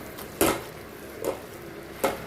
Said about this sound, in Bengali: নাড়াচাড়া করে ভালো করে মিশিয়ে নিলাম চিকেন কিমার সঙ্গে।